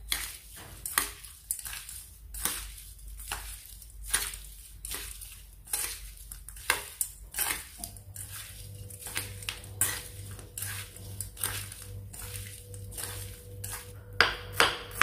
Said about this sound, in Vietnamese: mình trộn đều hết gia vị này lên để cho tôm nó được ngấm gia vị